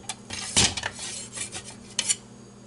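A poor-quality stainless steel kitchen knife gives short, dull metallic clinks and scrapes, several brief flat knocks with no lingering ring, close and fairly quiet over a low background hum.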